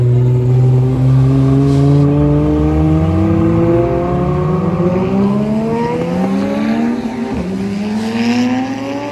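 A custom-built supercar with a massive turbo revs hard and pulls away at a sunset supercar meet, loud and close, its engine note rising through repeated gear climbs before fading slightly as it drives off.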